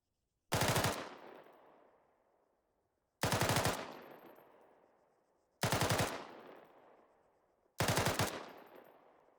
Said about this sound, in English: that is a sustained rate of fire for the saw.